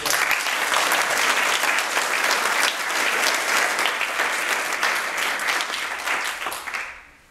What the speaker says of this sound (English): I would like to give a round of applause to Jill for all the hard work.